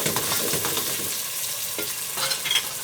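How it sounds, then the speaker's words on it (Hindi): Peas being stirred into pulao frying in a pan, a steady close sizzle with scraping stir strokes and a few sharper clinks toward the end, no talking. "और अब हम इसमें डालेंगे मटर, अच्छे से मिक्स करेंगे।"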